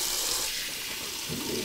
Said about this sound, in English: Let's go with some cold water rinse.